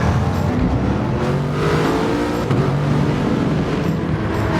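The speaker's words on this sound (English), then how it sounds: "Everyone on the revs early as they get away." Racing cars revving hard in a dense, continuous engine roar as they get away at the start of a race in a video game.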